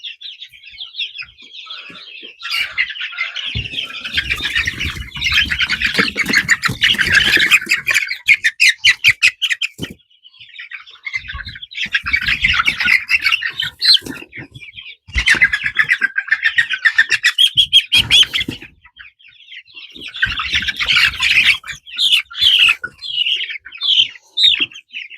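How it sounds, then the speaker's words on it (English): Baby chicks peeping and squawking in shrill, rapid bursts as they are handled and moved out of a brooder, close and loud, with short pauses between flurries and occasional handling thumps. "we're just going to take the chicks and we're just going to transfer them out"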